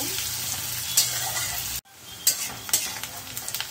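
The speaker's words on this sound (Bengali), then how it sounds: "এবারে ফ্লেমটাকে আমি মিডিয়াম ফ্লেমে রেখে ভালো করে ভাজা করে নেব। পেঁয়াজটা একটু লাল লাল করেই ভাজা করব।" Onions frying in a pan over a medium flame give a steady close sizzle, broken by a brief silence midway, with light stirring scrapes and utensil clinks over the hiss.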